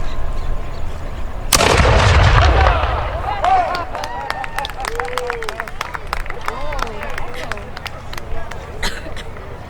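A single loud cannon blast booms at a Battle of Brooklyn reenactment, with a long rumbling decay, followed by scattered crowd chatter, claps and movement in an open outdoor setting.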